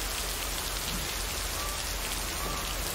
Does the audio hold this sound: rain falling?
yes